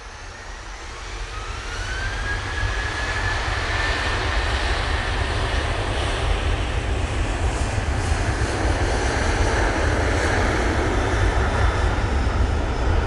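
Airliner departing Manchester Airport for Palma de Mallorca, its jet engines swelling into a steady, powerful takeoff roar with a rising whine, sustained and fairly close with no talk over it.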